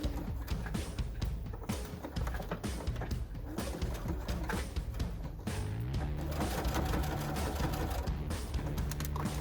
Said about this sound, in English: So just start sewing, you know, about 1 inch into it.